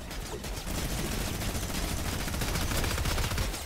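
Rapid, dense gunfire from a video game rattles continuously for a few seconds, loud and sustained.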